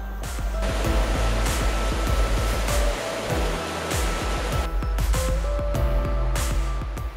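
Mountain stream running beside a forest road on the way to a ski tour from Bleckenau, a steady, loud broadband rush of flowing water that fills the whole stretch without pause.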